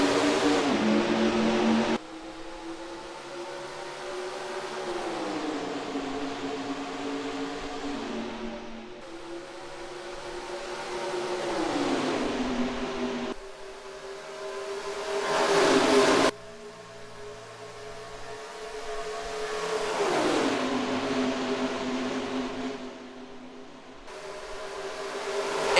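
Race car engines in the NR2003 racing game at Charlotte roar steadily and loudly through the Pepsi 600 start, revving up and down in long sweeping surges. Brief shifts in pitch come where the cars change gears, and no one speaks.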